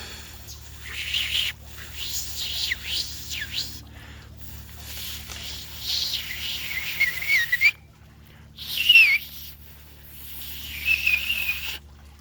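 A person practises loud whistling without fingers, shaping the tongue against the lip; breathy, wavering whistle attempts come in several bursts, some thin and airy, a few clearer tones, over a low steady hum.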